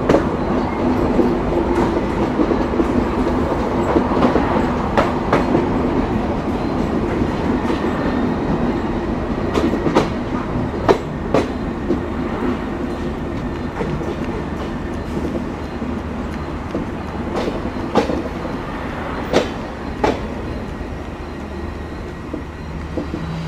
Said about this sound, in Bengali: আমাদের ট্রেন প্রবেশ করছে দর্শনা হল্ট রেলওয়ে স্টেশনে